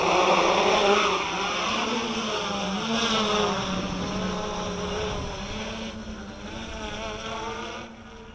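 Motors of a KK-board quadcopter flown after a crash, a loud, close, buzzing whine that wavers in pitch through the flight, then fades slightly at the end.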